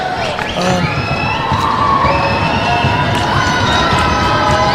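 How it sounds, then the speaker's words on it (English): A student section crowd at a Class 3A high school basketball game, Lander Valley vs Mountain View, shouts and cheers loudly and continuously, a dense roar of many voices with whoops rising above it. "This is the most the crowd's got into this ball game"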